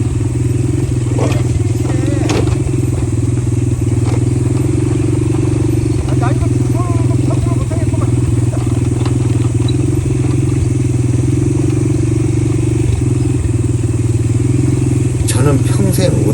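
A loud, steady four-wheel ATV engine drone runs throughout while descending a steep mountain slope, with rattles and clatter from a rough ride, and faint voices underneath.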